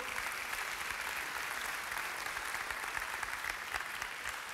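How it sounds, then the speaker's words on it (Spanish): Sustained applause from a church congregation during a sermon, dense steady clapping that fills the space evenly throughout with no pauses, loud and continuous with no talk over it. "¿Puedes darle un fuerte aplauso al Señor por eso?"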